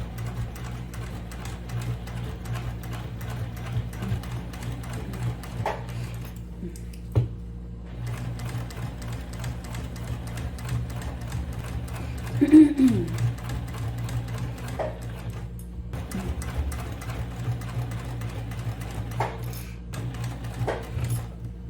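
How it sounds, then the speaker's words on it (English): Domestic sewing machine running in bursts while stitching thick fabric for a round bag, a steady mechanical hum and whir with brief pauses and a few small clinks, close and moderately loud. "let's go to the sewing machine and start sewing"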